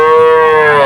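A calf at a cattle market in Shahpur, Khulna gives a single loud, close moo, a sustained tonal bellow lasting under a second.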